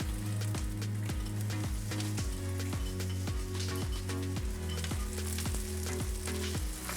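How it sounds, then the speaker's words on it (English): Onions frying in oil or butter in a pan, a steady crackling sizzle heard close, with a repeating low rhythmic thumping pulse running underneath. "we're going to put our onions into that, and we're going to cook those until they're soft"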